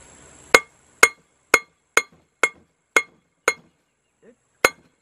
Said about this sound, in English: I'm gonna hit it with this hammer.